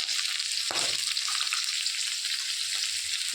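Chopped onion, green chilli and garlic fry in a pan, giving a loud, dense, continuous sizzle close up, with a brief stirring scrape early on.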